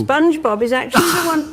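A single sharp sneeze bursts out partway through, right after a voice speaking in a cartoonish tone, with talk resuming over its tail.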